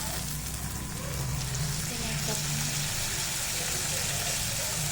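Chopped tomato sizzles in hot oil with onion in a pan, a steady close frying hiss that continues throughout with a low hum underneath.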